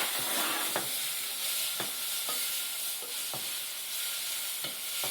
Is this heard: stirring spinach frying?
yes